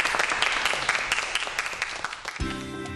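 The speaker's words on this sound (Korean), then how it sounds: "여러분 큰 박수 부탁드리겠습니다." Audience applause after a lecture on plant genes, a dense steady patter of many hands clapping that thins out near the end as a musical tone enters.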